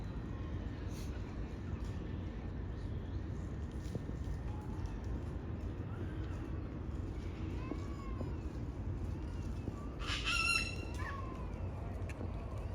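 Cockatoos call near a large tree in Sydney, with harsh screeches and squawks rising over a steady outdoor rumble that sounds like traffic, and a louder burst of calls near the end.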